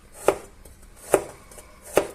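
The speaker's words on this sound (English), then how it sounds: "I will start off by cutting these garlic cloves" Three crisp knife chops cut garlic cloves on a cutting board at an unhurried, even pace, close and clear, with quiet pauses between.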